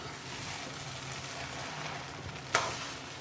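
Rice upma frying in a pan, a continuous close sizzle with soft stirring, ending in one sharp clack of the spoon against the pan; no talk.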